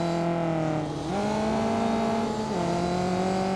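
A race car engine in a racing video game drones at a high, steady pitch, dipping briefly twice as it shifts gears and then climbing again, loud and continuous with no pauses.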